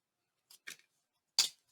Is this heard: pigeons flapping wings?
no